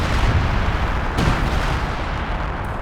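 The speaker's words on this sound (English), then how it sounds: "So some mortar rounds coming in." Mortar and artillery rounds land in Company of Heroes 2 battle, a continuous rumbling barrage with one sharper impact in the middle and a faint later crack, no voices over it.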